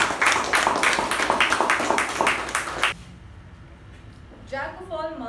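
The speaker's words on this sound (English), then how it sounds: "with a huge round of applause" A room full of people at a Toastmasters meeting claps loudly and steadily for about three seconds to welcome a young Toastmaster, then the applause stops abruptly and a voice begins speaking.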